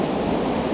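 Turbulent river rapids just above Tännforsen waterfall in Sweden give a loud, steady roar of rushing water, continuous and unbroken through the brief moment, with no voices.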